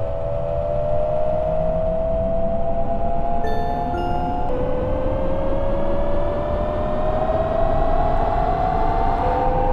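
A train pulls away from a station in the Train Crew railway simulator, a semi-express service, with a steady motor whine rising in pitch over continuous wheel and track rumble, plus a brief tonal chime partway through.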